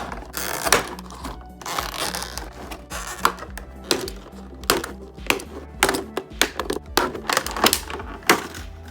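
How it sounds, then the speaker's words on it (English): Plastic parts of a Neca Gremlin action figure popped one by one from blister packaging, a series of sharp clicks and snaps at an irregular rhythm, close and fairly loud over faint rustling. "start popping things out of the plastic"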